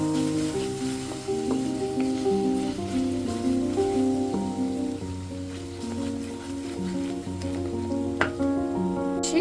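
Whole spices and masala frying in a pan for a vegetable dish, a low sizzle beneath prominent tonal background music, with occasional faint scrapes of stirring.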